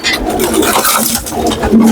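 Pigeons cooing close by in a loft, soft repeated low coos and rustling over a continuous background, with a faint human voice now and then.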